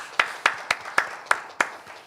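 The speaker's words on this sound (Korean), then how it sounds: "하나님께 감사와 영광의 박수 올려드리겠습니다" Six sharp, evenly spaced claps ring out at a church healing service, crisp and fairly close, like a small group clapping together in a slow unison rhythm.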